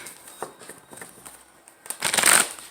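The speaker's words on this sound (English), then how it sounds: "One more shuffle." A deck of Gilded Tarot cards being shuffled by hand, soft riffling taps at first, then a louder, brighter burst of cards fanning together near the end, close and alone.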